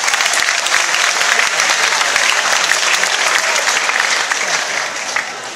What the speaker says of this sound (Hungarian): Nagy tapsot neki, gratulálunk!